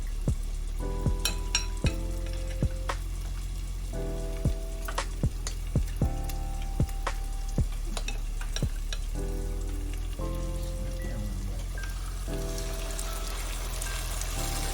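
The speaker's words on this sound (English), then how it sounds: "Frying everything up to a golden brown" Fish pieces deep-frying in hot oil to golden brown, crackling and sizzling steadily, with scattered sharp pops and small clinks from utensils against the pan.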